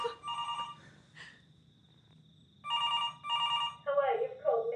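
Late-night telephone ringing in a house, several separate rings with quiet gaps between them, followed by voices talking near the end.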